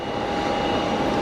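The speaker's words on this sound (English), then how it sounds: "Embraer Lineage inbound" An inbound Embraer Lineage business jet at Geneva Airport gives a steady, moderately loud engine drone with a constant whine, heard alone over a brief moment.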